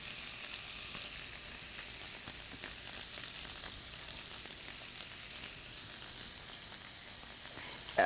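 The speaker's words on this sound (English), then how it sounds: "That sizzling sound. That is absolutely wonderful." Scallops sizzle in a hot pan as a steady, even frying hiss, close and continuous throughout with no talk over it.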